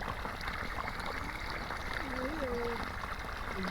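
Water pours steadily onto green dwarf coconut nursery seedlings on a farm in Assam, a faint, continuous trickling wash heard from a little distance with a few thin whistling tones in the background.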